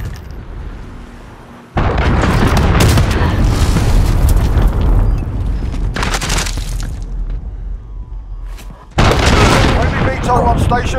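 A missile strike lands in Call of Duty Modern Warfare Team Deathmatch, a heavy, booming explosion with a long roaring tail, then a second big blast near the end, both loud and close amid game noise.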